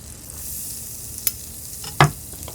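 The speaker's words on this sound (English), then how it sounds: "Let's get our garlic in there." Garlic added to chili butter sauce in a pan for garlic shrimp, a steady soft sizzle close by with a couple of sharp utensil clinks against the pan, no talking.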